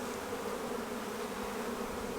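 Honey bees buzz steadily around an open hive colony during a spring inspection, a dense continuous hum close by with no talk over it.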